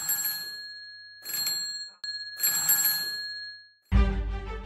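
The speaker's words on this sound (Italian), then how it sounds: "I campanelli, intanto, continuano a suonare da una parte all'altra della stanza dei Bachi." Electric bells from Marconi's early radio experiment ring in loud repeated bursts with short gaps between them, followed by a sudden burst of music.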